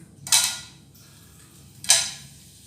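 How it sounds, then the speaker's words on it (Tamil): Two short bursts of crackling sizzle, each flaring up loudly and then settling, as cinnamon and whole spices are dropped into hot oil. "பார்த்தீங்கன்னா அது பொரியல் உங்களுக்கு சத்தம் எப்படி அழகாக பொரியுது பாருங்கள்."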